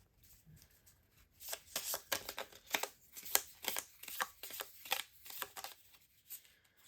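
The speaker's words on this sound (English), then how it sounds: "I feel like I need to shuffle." Tarot cards are riffled and shuffled in a quick run of soft, crisp flutters and taps, fairly quiet and close, with no talking.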